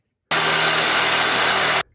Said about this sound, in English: Now I'm getting ready to drill the little hole for the leg.